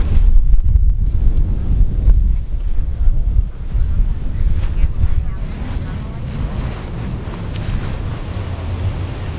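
Wind buffets the microphone with a loud, roaring rumble while ocean surf breaks at a sandbar, a continuous wash of waves under the gusts.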